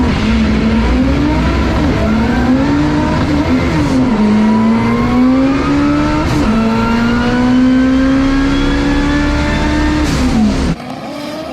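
All-wheel-drive and front-wheel-drive drag race cars running 9-second passes, engines screaming loudly through rising gear-by-gear pulls with brief shift breaks, a sustained close roar that cuts off sharply near the end.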